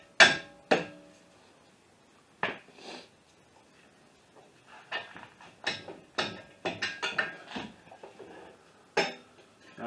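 Hammer tapping the front CV axle out of a 2008 Toyota Solara: a dozen or so sharp, irregular knocks, some in quick bunches, others spaced apart, close by and fairly loud with no talk.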